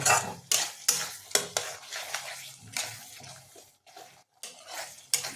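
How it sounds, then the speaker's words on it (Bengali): Paneer curry masala with Kashmiri chilli powder stirred hard in a pan, giving repeated loud scraping strokes with a sizzle behind them, close and rhythmic with a brief pause near the end, and no voices. "যেহেতু আমরা কাশ্মীরি লঙ্কা গুঁড়ো যোগ করেছি তাই এটাকে ভালোভাবে আরও কিছুক্ষণ নাড়িয়ে নেবো"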